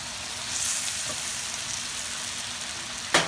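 Shrimp sizzles in a pan with pork belly for a banana blossom kilawin, a steady broadband frying hiss throughout with a sharp utensil knock near the end.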